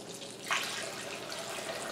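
Water runs steadily into a turkey roaster holding beef bones for broth, a continuous close splashing wash with a brief brighter gush near the start.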